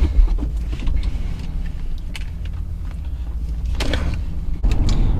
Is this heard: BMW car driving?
yes